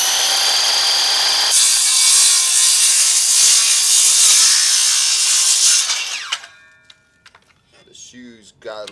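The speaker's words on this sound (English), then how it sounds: "I'm just going to do a quick little cut to kind of clean up my blade." A saw blade cuts through a block of beeswax, giving a loud, steady rasping drone for about six seconds before it stops, followed by someone talking briefly.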